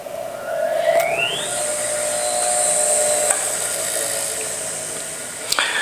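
A serrated knife sharpening machine runs at high speed with a steady high-pitched whine and a rising tone early on, punctuated by a few sharp contact ticks.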